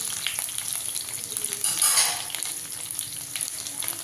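Two large chopped onions with curry leaves sizzle in a pan for mint rice, a steady bright frying hiss with a brief louder surge midway as they are stirred, no talking.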